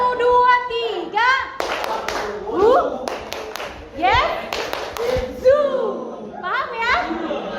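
A high school class in Tasikmalaya clapping combined patterns one, two and three: short groups of sharp hand claps between a teacher's speech and children's voices, the claps falling in quick, distinct clusters.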